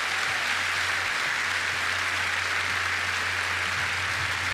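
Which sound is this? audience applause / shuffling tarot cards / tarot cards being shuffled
audience applause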